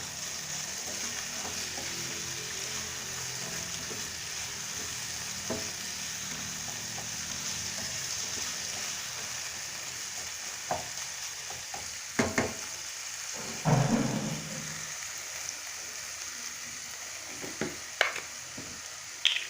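Sayote and chicken fillet sauté in a hot pan, a steady close sizzle and frying hiss running throughout with occasional scraping stirs and clinks of a utensil.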